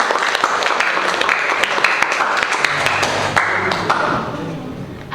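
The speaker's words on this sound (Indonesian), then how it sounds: "Kita berikan aplaus dulu." Scattered, moderately loud clapping from a classroom audience for a presenting student group at a vocational school, sparse and uneven rather than a full ovation, tapering toward the end.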